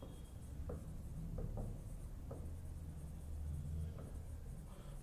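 A pen writing a judgment by hand on paper, soft continuous scratching with a few brief strokes, close and faint over a low room rumble.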